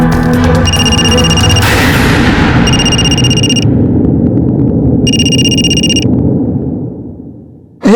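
A phone call ringing on speakerphone, with three evenly spaced electronic ring tones sounding over a loud, dense rumbling background.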